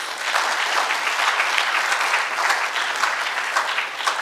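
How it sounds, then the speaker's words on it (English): Audience applause for a book author at a journalism lecture event, a dense, steady wash of many hands clapping that holds at an even loudness throughout. "let's give him a round of applause"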